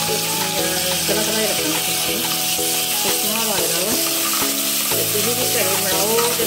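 Onions sizzling in a pan for sarson ka saag, a steady loud frying hiss throughout with stirring, under continuous background music.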